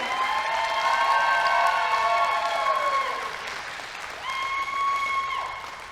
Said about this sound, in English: Let's cheer on our ladies.